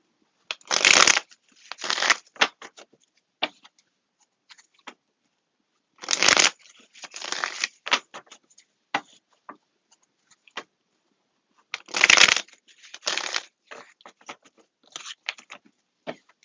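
Three bursts of cards being riffle-shuffled, each a quick fluttering rush followed by softer taps and shuffling, with brief quiet gaps between.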